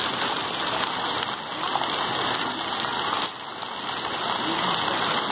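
Water jets of a musical fountain in a city park rush and splash in a steady, dense hiss with slight swells in level, continuous and fairly loud throughout.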